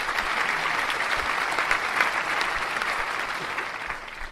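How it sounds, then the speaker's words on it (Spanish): A canned applause sound effect plays on a Spanish-language radio show, steady dense clapping at an even loudness for about four seconds, alone without talk. "Bienvenida, un fuerte aplauso."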